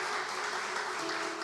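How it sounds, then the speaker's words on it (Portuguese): Church congregation at a Brazilian communion service applauds, a brief dense burst of clapping filling the hall with a sustained tone ringing underneath. "Aplauda o Senhor."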